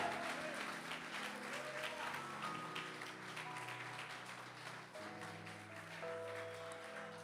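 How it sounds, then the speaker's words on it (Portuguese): Sustained applause from a congregation during a church evening service, a dense steady clapping roar lasting the whole stretch, with a voice and musical tones underneath. "Uma salva de palmas para o Senhor nessa noite"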